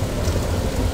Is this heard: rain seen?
yes